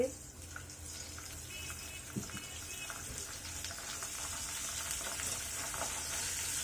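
Onion paste with ginger-garlic paste frying in a pan for a Bengali tengra fish curry, a steady close sizzle throughout with a few faint stirring knocks.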